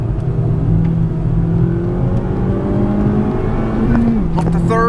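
A 2016 Honda Civic Type R FK2 being driven on track at Mondello Park, its engine droning steadily from inside the cabin and rising into a rev as it shifts down, with a voice speaking over it.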